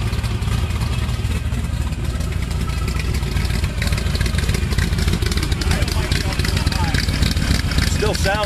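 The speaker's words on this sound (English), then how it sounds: "you can actually hear each side's cylinders firing" A motorcycle engine idles close by, its cylinders firing in a steady, lumpy rapid beat that stays continuous throughout, while people talk briefly over it near the end.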